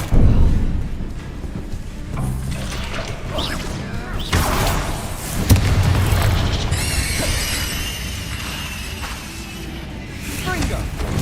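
Confringo fire blast spells erupting in the Hogwarts Legacy video game, loud whooshing bursts and crashing impacts spread across the stretch, with a bright fiery crackle later on and a voice speaking underneath.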